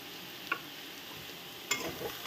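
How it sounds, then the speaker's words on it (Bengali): Kochu ghonto, a taro stem dish with dry chili powder, is stirred and fried in ghee. A faint, soft sizzle runs underneath and two brief utensil clicks or scrapes stand out. "ঘি দিয়ে এটাকে ভালো করে আরেকটু কষিয়ে নেব।"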